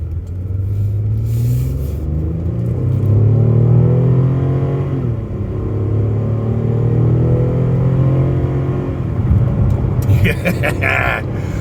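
A 2014 Chevrolet Impala Limited 9C1 police-package car with a 300-horsepower engine pulls hard under acceleration, its loud, steady engine rumble climbing and falling in pitch over several seconds.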